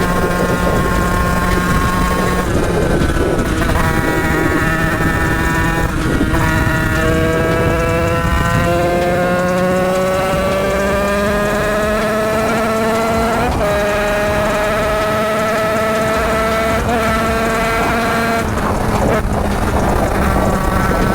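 A powerful motorcycle being ridden, its engine note climbing through gears in rising whines with shifts, loud and continuous with wind noise.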